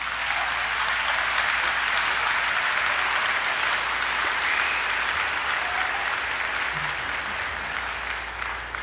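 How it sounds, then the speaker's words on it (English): Audience applause filling a concert hall at the dedication concert of a new performing arts center, a dense, sustained clapping from a large crowd that holds steady for several seconds with no talking over it. "Let's give you guys a big round of applause."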